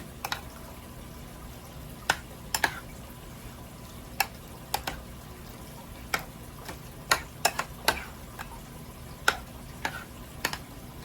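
Stirring country potato salad with a fork in a bowl, sharp irregular clinks and taps of utensil against the dish over a quiet background.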